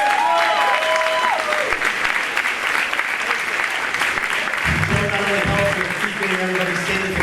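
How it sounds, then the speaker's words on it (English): Loud, dense applause from an audience at a high school varsity sports awards ceremony, sustained throughout with crowd noise and some voices mixed in. "Please a round of applause for Joe."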